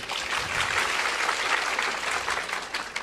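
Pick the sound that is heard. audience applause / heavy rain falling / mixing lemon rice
audience applause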